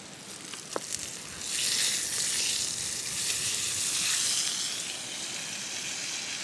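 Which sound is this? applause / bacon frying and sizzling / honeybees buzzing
bacon frying and sizzling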